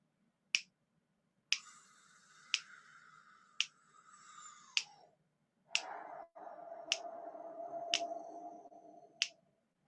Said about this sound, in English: I'm just going to snap my fingers.